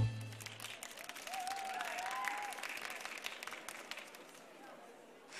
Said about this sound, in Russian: Давайте сейчас, пожалуйста, аплодисменты, крики, что угодно.